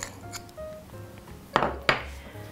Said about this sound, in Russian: Венчиком. Постараюсь все это хорошенечко перемешать.